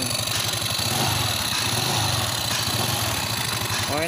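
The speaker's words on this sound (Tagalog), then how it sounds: "Maandar na yung MX I-125 na ginagawa natin." A Yamaha Mio MXi 125 scooter engine, hot-wired with a jumper while being repaired for a check-engine light and fuel pump fault, idles steadily and close by with an even mid-pitched putter, no talk over it.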